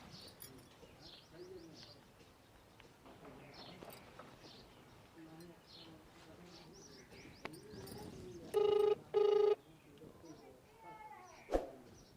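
A telephone rings twice in quick double bursts during a rural comedy scene, loud against murmuring voices and faint bird calls in the background.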